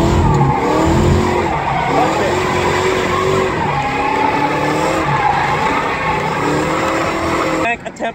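Mazda Miata drifting at a spring Matsuri drift event, with a clutch kick and squealing tires; a loud, steady engine roar and tire screech runs for about eight seconds, with voices talking over it, then cuts off abruptly.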